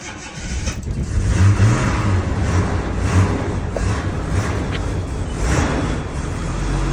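A 1984 Jaguar Sovereign 4.2 engine starting inside a garage, cranking into a steady, loud rumbling idle with slight surges in revs, enclosed and close.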